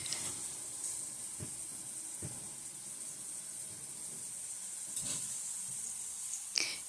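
Ground turkey sizzles steadily in a pan as taco filling cooks, a soft continuous hiss with a few faint clicks and knocks scattered through it.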